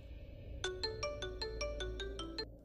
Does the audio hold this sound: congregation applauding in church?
no